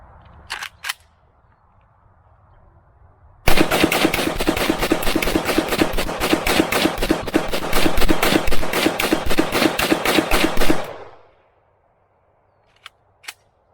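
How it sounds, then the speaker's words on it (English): Century Arms AK-47 rifle emptying a magazine in one sustained burst of rapid, loud, close shots lasting about seven seconds, then falling silent, with a few faint clicks before and after. "first things first, we got to start it with the mag dump"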